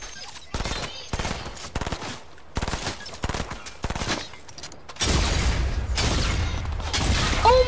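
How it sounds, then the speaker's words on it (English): Rapid gunfire from the video game Fortnite comes in several loud, clipped bursts, followed by a longer, denser barrage. Brief voices are heard between the bursts. "He's shooting me."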